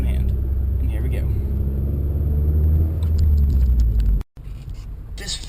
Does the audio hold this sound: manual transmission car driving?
yes